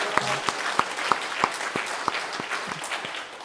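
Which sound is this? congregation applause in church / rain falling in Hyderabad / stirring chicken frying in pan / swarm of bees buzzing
congregation applause in church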